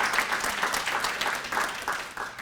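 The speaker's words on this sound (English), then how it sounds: "I just want to give them a big round of applause" Audience applause fills a luncheon honoring the legacy of Cesar Chavez, a steady wash of many hands clapping at moderate volume with no talk over it.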